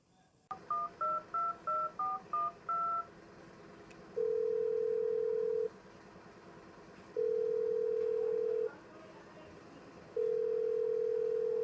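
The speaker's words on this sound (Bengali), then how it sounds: "এই সুযোগে ফোনটা করেই ফেলি।" Telephone keypad being dialed, a quick run of about eight beeping touch-tones followed by three long, evenly spaced ringing tones on the line, clear and alone with no talking.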